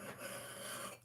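A single-bevel axe edge being sharpened and polished on a flat stone: a short, steady rasping rub, close and fairly quiet, continuous for about a second before trailing off, with no voices.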